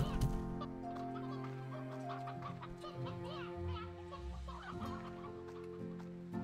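Chickens cluck in the farming game Slime Rancher 2: busy overlapping clucks and chirps that continue steadily over a sustained tonal music bed, close and moderately loud.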